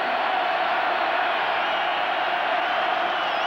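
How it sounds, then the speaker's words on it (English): A large crowd roars steadily at Memorial Stadium during a 1991 Washington at Nebraska college football game, a dense sustained wash of distant cheering with no breaks. "Crowd roaring at Memorial Stadium."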